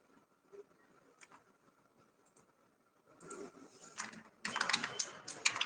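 Keys clatter on a computer keyboard, faint and sparse at first, then denser bursts of quick taps growing louder toward the end, with no talking over them.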